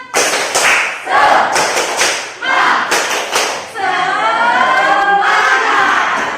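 A school class performing the tepuk semangat spirit clapping chant, rhythmic bursts of group hand claps and thuds alternating with loud children's chanting voices, ending in a sustained collective shout.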